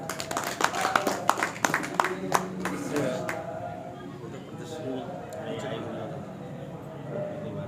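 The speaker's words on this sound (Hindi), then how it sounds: "जोरदार तालियों से स्वागत" Audience clapping to welcome a speaker at a public gathering, a burst of close, brisk claps in the first few seconds that quickly thins out, followed by a low murmur of voices and room noise.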